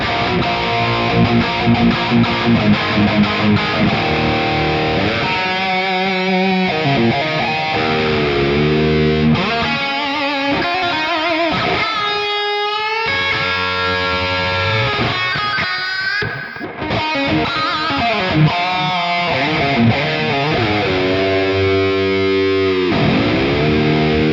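An electric guitar plays continuously through a Valeton GP-50 multi-effects unit on the Great Pedal patch, its notes and chords smeared by heavy delay and reverb into a dense, loud, unbroken wash.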